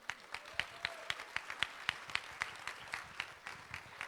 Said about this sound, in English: I want you all to give a huge round of applause to Nisha Kasba here.